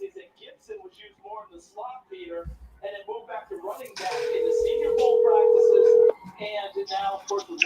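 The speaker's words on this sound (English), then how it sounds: "Let me see if I can get Quincy on the phone" A phone call is placed to reach someone during a live stream: a steady ringback tone sounds for about two seconds in the middle, with someone talking before and after it.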